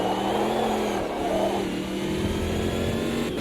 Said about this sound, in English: that big juicy V8 sounds great